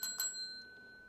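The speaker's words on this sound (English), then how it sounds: "Let's ring the bell." A bicycle-style bell rings twice in quick succession during a session of scratching $5 Pennsylvania Lottery scratch-off tickets, bright close chimes that fade into a lingering ring.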